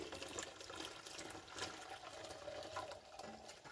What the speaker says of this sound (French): Donc là, on va filtrer tout ça pour ne pas avoir d'impureté.